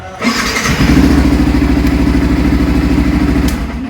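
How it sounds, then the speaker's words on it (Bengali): A motorcycle's electric self-starter cranks briefly and the engine catches, settling into a loud, steady close-up idle just after a switch repair. "সেলফ দিয়ে দেখি কাজ করছে দেখতে পাচ্ছ বাইকের আওয়াজ হচ্ছে সেলফ নিচ্ছে"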